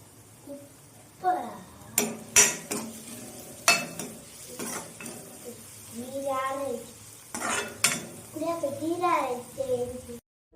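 Onions sautéing in oil with a little salt for jeera rice, with sharp clinks of a spoon stirring against the pan and a soft sizzle, while someone speaks over the cooking.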